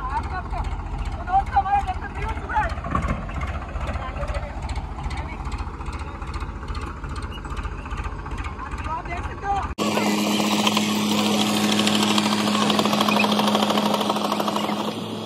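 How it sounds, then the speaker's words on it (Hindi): A tractor engine chugs in a steady rapid rhythm as it is driven, loud and near, then after a sudden cut turns into a denser, louder roar, with voices talking over it throughout. "ट्रैक्टर में मेरा भाई चढ़ चुका है और गाड़ी चलाने जा रहा है।"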